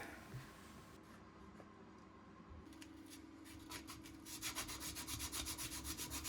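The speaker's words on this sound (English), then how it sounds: "I'm going to remove it from the clamps and give it a nice sanding" Faint rubbing and scratching of sandpaper on a wooden jewelry box made on a bandsaw, turning into rapid back-and-forth strokes that grow louder and rhythmic toward the end.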